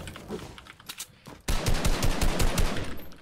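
Rapid automatic gunfire in a first-person PC shooter game, loud bursts of shots that grow denser and more intense after a short lull, with no talking over them.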